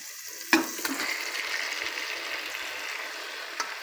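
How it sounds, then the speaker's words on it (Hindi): Minced boneless chicken cooks over a low flame in a pan with onion, giving a soft steady sizzle broken by a few light stirring clicks, quiet and close. "और इसको हल्की सी आग पे भूनेंगे इसको भी।"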